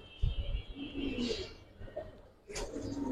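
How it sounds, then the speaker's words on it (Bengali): A top-quality female Cheeta military pigeon gives low soft coos in short separate phrases, close by in a quiet space, with a brief fluttering rustle near the end. "টপ কোয়ালিটির চিতা মিলিটারি একটা মাদি কবুতর"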